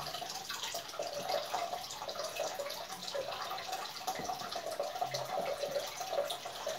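Water runs steadily from the reopened supply line of an electric water heater during maintenance, a constant close hiss with faint drips and small splashes, no talking.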